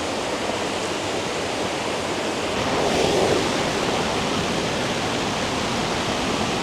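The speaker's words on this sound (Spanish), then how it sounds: "Por fin llegamos a la cañada Toro Flaco con una cascada lindísima." A waterfall in the Toro Flaco ravine at Loma de Blanco near Bonao, Dominican Republic, pours with a loud, continuous rushing roar that swells slightly midway, with no voices.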